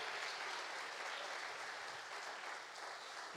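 A church congregation applauds during a sermon, a continuous wash of many hands clapping at a moderate, even level for a few seconds with no talk over it.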